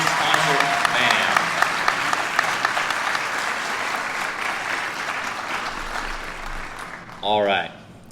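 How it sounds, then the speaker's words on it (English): A crowd at a Veterans Day ceremony claps for a high school concert band, loud sustained applause with scattered whistles that gradually thins out, followed by a brief voice near the end. "get a round of applause to the Lincoln Northeast Concert Band."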